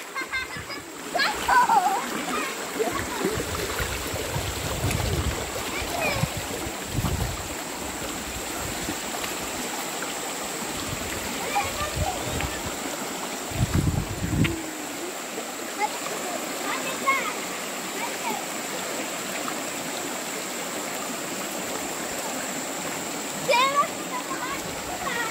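Someone bathing and splashing in a river, with intermittent bursts of water splashing over a steady stream flow and a constant high hiss, while voices talk at times.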